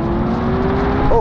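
A Ferrari SF90 accelerating hard in a drag race, a steady loud engine roar with rising tonal whine holding throughout and a brief pitch sweep near the end.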